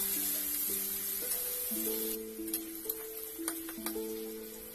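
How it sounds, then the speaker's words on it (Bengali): Chopped onion sizzles in a pan with a faint, steady hiss, overlaid by a simple stepping melody of background music and a few light ticks near the end. "তারপরে দিয়ে দিলাম পেঁয়াজ কুচি পেঁয়াজটাকে লাল লাল করে ভেজে নেব"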